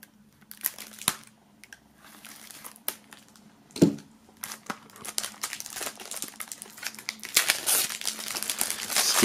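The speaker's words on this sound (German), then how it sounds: "dann werden wir auch hier mal die Folie entfernen" Plastic film crinkles and tears as it is peeled off a CD album box, close and continuous, growing denser and louder toward the end.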